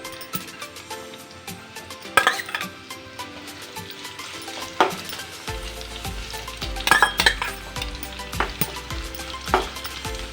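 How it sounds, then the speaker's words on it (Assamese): Two medium roughly chopped onions fry in hot mustard oil in a wok, with a steady close sizzle and repeated sharp clanks of a spatula stirring against the metal. "পিঁয়াজখিনি অকণমান সময় 1 মিনিট সময় মই ভাজিম"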